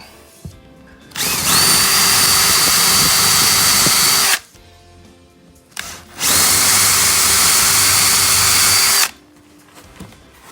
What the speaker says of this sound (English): I'm gonna first drill an 1/8 inch pilot hole